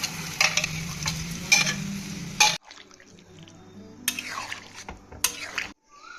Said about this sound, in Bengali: মশলা ভালোভাবে কষে গেছে এবার সেদ্ধ করে রাখা কাবলি ছোলাটা মের মধ্যে দিয়ে দিচ্ছি